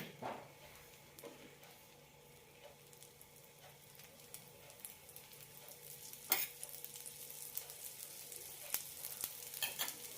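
Dosa batter spread thick on a hot tawa with ghee and oil, frying in a steady soft sizzle with occasional crackles and sharper pops growing busier toward the end.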